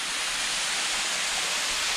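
Westcliffe and Cliffview Falls in Ontario, water pouring down a cliff in a light flow, a steady close hiss of falling water with no voices.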